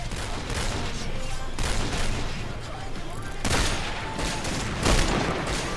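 Gunfire from a WA2000 sniper rifle in the shooter game Point Blank, loud bursts of shots over dense game noise with a few heavier reports around the middle and near the end.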